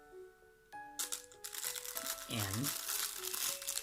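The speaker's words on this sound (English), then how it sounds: "I'm gonna take off the bubble" Plastic bubble wrap being crinkled and pulled off a Casio G-Shock DW-9052GBX watch, a close, busy crackling rustle through most of the moment, with a voice speaking over it.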